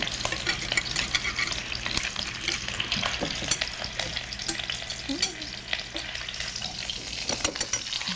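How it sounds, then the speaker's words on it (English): Cumin being stirred into lamb browning in a hot pan, with a steady dense sizzle and frying crackle throughout, punctuated by scraping stirs of a utensil against the pan. "And next we have our 1/2 teaspoon of cumin. And we'll turn this off. Stir it. And we'll mix it up."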